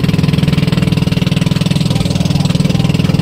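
A small motorboat engine, on a wooden boat, chugs steadily and close, its rapid even pulsing filling the whole stretch without any voices.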